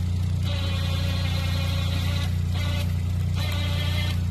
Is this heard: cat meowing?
no